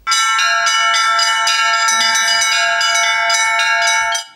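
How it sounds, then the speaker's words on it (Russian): Russian Orthodox church bells ring loud and close, bright overlapping metallic peals sustaining for several seconds before stopping abruptly. "Колокольный звон – неповторимая древнерусская церковная музыка"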